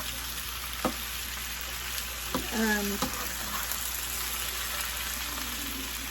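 Tomato, pepper and mixed vegetables sizzling in a pan, a steady crackling hiss with a few sharp utensil knocks and a brief scrape partway through, close up and without speech.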